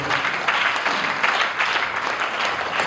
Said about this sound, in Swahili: Tumpigie Yesu makofi.